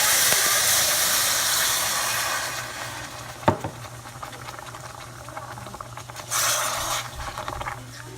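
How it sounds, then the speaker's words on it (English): Water poured into a hot pan of seared pork sets off a loud, broad steaming hiss that fades to a sizzle, with a sharp clank partway through and a second surge of hissing near the end. "so here I'm adding my water."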